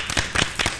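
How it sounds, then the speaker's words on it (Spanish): Applause for Mauricio Barcelata: a handful of separate, fairly faint hand claps in a loose, uneven rhythm, with no talking over them. "Un aplauso para"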